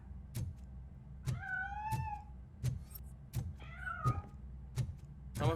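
Two drawn-out meows from a cat in the video game Robocop: Rogue City, sounding over a steady low rumbling background with sharp thuds at regular intervals.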